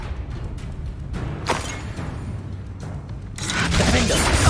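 Confringo blasting spell detonating in the game Hogwarts Legacy, a burst of broadband rumble that swells and holds loud near the end amid continuous battle noise.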